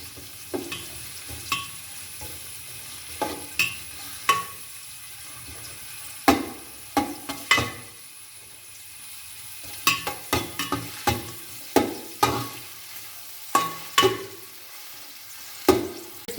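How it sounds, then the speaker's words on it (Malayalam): Garlic sautés in a pan until golden for chicken mandi: a steady soft sizzle is punctuated by repeated, close spoon clacks and scrapes as it is stirred, with no talking. "വെളുത്തുള്ളി ഇട്ട് കൊടുക്കാം. ഇതൊരു ചെറിയ ഗോൾഡൻ കളറാവുന്നത് വരെ"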